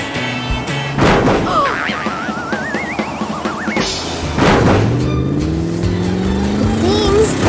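Animated family car on a bumpy cartoon ride, with a loud rumbling engine, repeated jolts and thumps, and swooping, wobbly sound effects rising and falling throughout while voices chatter over it.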